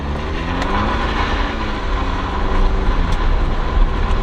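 A car with a Wind Booster throttle controller set to 9 in sport mode accelerating hard, a loud, steady engine and road roar building slightly toward the end, tires slipping a little, heard from inside the cabin without talk.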